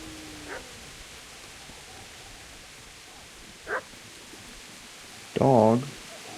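A dog barks in Kingdom Come: Deliverance, one short yip early on, a sharper bark midway, then a louder burst of barking near the end over a steady low hiss.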